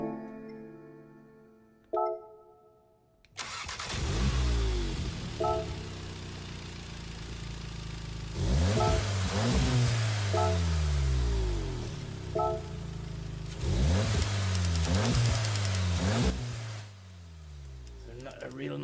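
A Lancer Evo engine revs in a driving video game, rising and falling in repeated climbs through the gears, loud and close, after a brief menu-like chime at the start.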